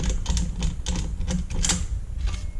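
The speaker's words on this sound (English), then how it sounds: "Just using a flathead. Flathead to unscrew it." A flathead screwdriver unscrews a screw from the cover of a Siemens Acramatic 2100 A01 control panel, giving a run of close, rapid clicking and scraping ticks in uneven bursts with no talk.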